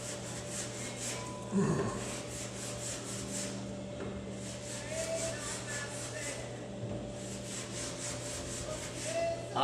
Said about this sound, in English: I'm using the clay bar from Automagic, the fine clay bar.